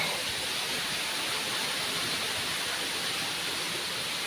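A forest waterfall at Nadukani near Gudalur roars as a steady, even rush of falling water, with no breaks and no voices.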